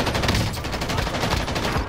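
Rapid automatic gunfire rattles steadily in a Warzone firefight, a close, loud stream of shots for just under two seconds with no talking over it.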